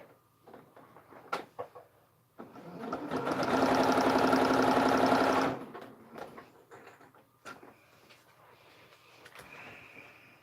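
A sewing machine stitches a paper-pieced daffodil quilt block in one continuous, fast mechanical whirr of about three seconds. Quiet handling clicks and rustles come before and after it.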